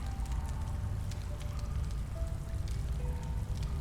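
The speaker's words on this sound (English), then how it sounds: "listen to the river go by" Continuous rushing and gurgling of a flowing river, dense and even over the whole clip with a low rumble and scattered splashy detail.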